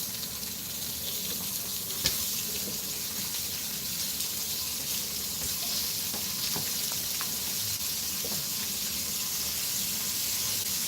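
Steady crackling sizzle of food frying in a hot pan, continuous and close, with occasional small pops and clinks.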